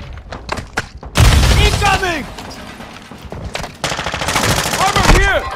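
Call of Duty: Modern Warfare II gunfire: close, loud bursts of automatic fire and sharp shots come in two heavy volleys with sparser single cracks between them, amid game effects and voices.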